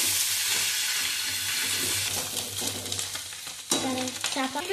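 Flowers fry in a pan with a steady close sizzle, stirred with scraping strokes that grow sharper and more frequent toward the end, no voices over them.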